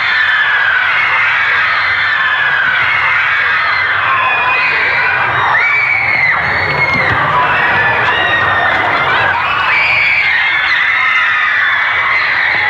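A large crowd of adolescent fans screams continuously and loudly, a dense, sustained wall of high-pitched shrieks and cheering that swells and never lets up across the whole stretch.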